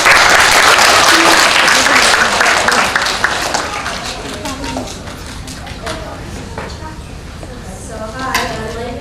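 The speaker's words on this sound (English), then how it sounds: "let's give Aara a special welcome with a round of applause" A school audience at an elementary school claps to welcome a young author speaker, loud dense clapping at first that thins and fades, with children's voices and stirring over the tail.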